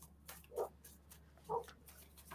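Dogs bark somewhere outside, two short, muffled barks about a second apart that carry faintly over a quiet indoor background.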